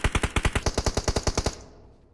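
Automatic gunfire in PUBG Mobile: a fast, steady burst of about fourteen loud, close shots in even rhythm, cutting off cleanly into a short fading echo.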